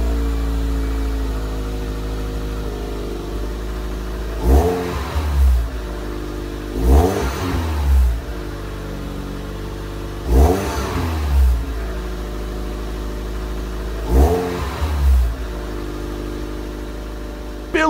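A 1997 Toyota MR2 GT-S in the Gran Turismo racing game revs hard four times in evenly spaced bursts over a steady idle, each blip rising and falling quickly, loud and close with no talking.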